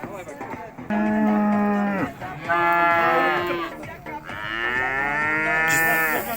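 Cattle and calves at the Urzhar livestock bazaar, loud close moos repeated three times in drawn-out calls over background chatter of the market.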